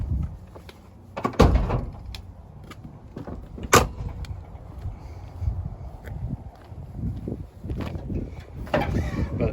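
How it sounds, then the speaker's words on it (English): A 1988 Suburban fitted with a 2-inch cowl hood is opened in a run of metallic clunks and latch knocks, with a loud thump near the start and another mid-way, close and with no speech. "Pop the hood here."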